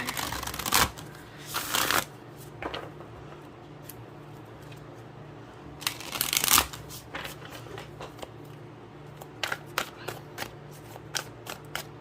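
Oracle cards are shuffled in repeated close, crisp bursts of riffling and flicking, with quieter rustling and handling between them over a low steady background hum.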